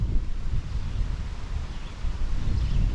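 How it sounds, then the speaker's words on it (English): Wind rushes through leaves along a hiking trail on a cool, breezy day, a steady broadband rustle mixed with low microphone buffeting, fairly loud and continuous without talking. "And the leaves blowing in the wind."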